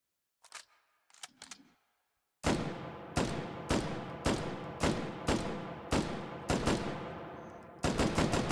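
Gunfire in the VR shooter H3VR: after a few faint handling clicks, a rapid string of about eight loud, sharp shots rings out at a steady rhythm, each with a short echoing tail.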